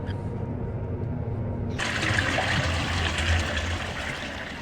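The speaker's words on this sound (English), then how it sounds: "Oh, it drained the water." Water draining away in a video game, a steady rushing wash that swells abruptly partway through and stays broad and loud before easing slightly at the end, with no voices over it.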